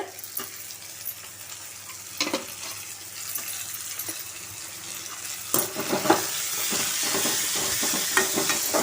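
Finely chopped tomatoes frying with onions in a pan, stirred with scattered utensil clicks and scrapes over a soft sizzle that grows fuller and louder toward the end; no voices.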